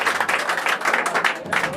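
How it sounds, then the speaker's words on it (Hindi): Children in a group clap for a boy who built a machine, a short burst of scattered, uneven applause with mixed voices over it, fairly close and moderately loud. "मैं चाहूँगा कि सभी बच्चे इस पर एक तालियां लगाएं"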